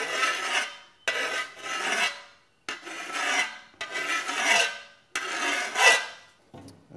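A hand file rasps along the back edge of a garden tool blade in about five firm, evenly spaced strokes, each a close, gritty scrape separated by short pauses.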